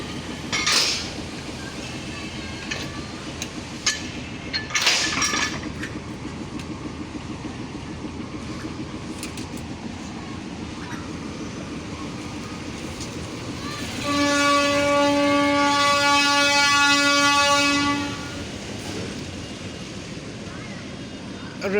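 A loaded goods train rumbles steadily along the rails leaving the Saidpur railway workshop, and a loud horn blares for several seconds partway through before the rolling noise carries on.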